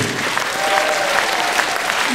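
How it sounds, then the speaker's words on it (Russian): Warm, steady audience applause at a solo concert by a border service ensemble's singer, dense clapping filling the hall at a constant level with no voices over it. "Благодарю вас за ваши теплые аплодисменты"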